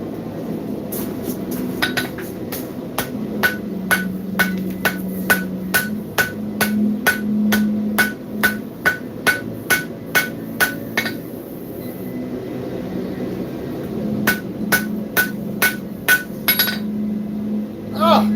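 Hammer striking hot steel on an anvil while forge welding an axe, a long run of sharp ringing metallic blows at a steady rhythm with brief pauses, close and loud over a low roar.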